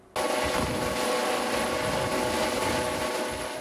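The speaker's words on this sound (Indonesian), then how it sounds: "Simulasi penyelamatan korban dari udara dengan menggunakan helikopter ini digelar di kawasan Lampulo," A SAR rescue helicopter flies during an aerial victim-rescue drill at Lampulo, Banda Aceh, its steady loud rotor and engine roar starting abruptly and holding close and constant.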